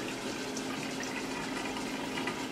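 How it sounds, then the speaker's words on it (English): Water pouring out as a pot of cooked potatoes is drained: a steady, close, rushing gush with no breaks and no talking. "I'm just gonna strain the potatoes"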